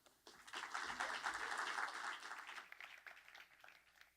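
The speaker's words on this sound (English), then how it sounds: "So let's give a round of applause for Karin." Audience applause for a speaker at a technology conference, a steady wash of many hands clapping that swells quickly, holds, then thins out toward the end, heard fairly quietly with no talking.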